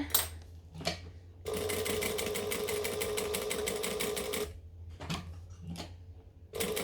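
A sewing machine stitches across the bottom of a fabric piece and backstitches, a steady whirring run of about three seconds framed by brief stop-start bursts and handling clicks before and after.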